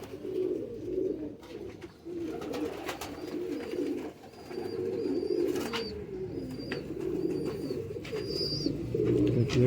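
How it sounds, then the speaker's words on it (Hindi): Pigeons coo repeatedly in low, throaty phrases, steady and fairly close. The bird is a khaki pigeon in a loft where pairs are nesting on eggs, with faint chirps from other birds in the background. "ये खाक से कबूतर है।"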